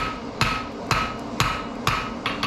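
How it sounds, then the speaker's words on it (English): A blacksmith hammers hot steel while drawing out a fire poker, five loud, close, ringing blows landing at an even half-second rhythm with no talking. "we draw it back towards us as we hammer in the same place"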